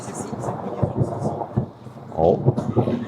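Thunder from a nearby lightning storm rumbles in several low, rolling bursts, heard from inside a motorhome in France while people talk over it.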